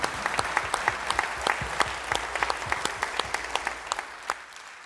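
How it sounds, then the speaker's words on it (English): A worship congregation in a church applauds graduating seniors. Distinct, fairly close claps pop irregularly over a dense bed of crowd clapping, which thins toward the end. "just give them a big round of applause?"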